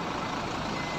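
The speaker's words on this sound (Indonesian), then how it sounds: "Wih, Hino RN cuy, 285." Hino RN 285 bus with an Adi Putra body, a loud, steady, dense rumble heard close up for a brief moment.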